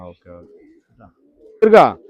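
Kept pigeons coo once, a short rolling call that rises near the end, loud and close, after a stretch of someone speaking.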